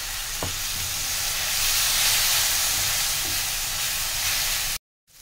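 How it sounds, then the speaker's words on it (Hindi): Vegetables with dressing stir-fry in a pan over a high gas flame, making a loud, continuous hissing sizzle that swells slightly midway and cuts off abruptly near the end. "गैस को फुल पर ही रखना है और लगातार हिलाते रहना है।"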